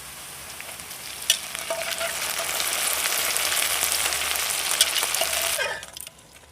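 Boiled mutton and fried onions sizzle loudly in a pan while being stirred, with occasional scraping clinks, until the frying suddenly dies down near the end.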